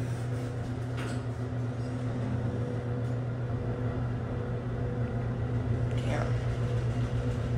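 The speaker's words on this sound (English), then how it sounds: "This thing is rumbly going up." Montgomery scenic hydraulic elevator at a Macy's store, rumbling steadily as it climbs, a constant low drone with a brief voice partway through.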